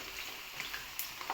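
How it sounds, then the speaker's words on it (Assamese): Potatoes frying in a pan during chicken cooking, a soft steady sizzle with faint scattered crackles and ticks, quiet and continuous, no talking. "ভাজি আছোঁ আলুখিনি।"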